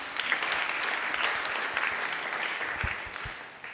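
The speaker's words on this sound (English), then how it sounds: "everyone give him a round of applause" Audience applause fills a meeting hall after a controlled-burn meadow management talk, steady dense clapping held for several seconds with no voices on top.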